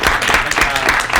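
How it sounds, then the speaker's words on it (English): A conference audience at a panel discussion on frenulum surgery claps for Cynthia Peterson, a short burst of brisk, close applause with a voice faintly under it. "big round of applause for her"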